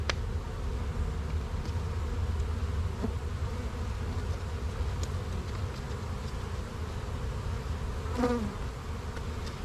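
Honey bees buzz continuously at a beehive during a mite treatment, a dense steady drone close by with individual bees passing near, and no talking.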